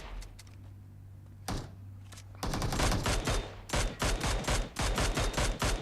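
Gunfire in the mobile battle game PUBG Mobile: a single shot, then long rattling bursts of automatic fire in quick succession with short gaps, loud and close.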